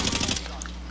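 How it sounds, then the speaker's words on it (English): Rapid automatic gunfire from the video game Call of Duty Warzone, a dense burst of shots in the first half-second that then cuts off, leaving a low steady hum. "Yeah, the one that Viz is shooting."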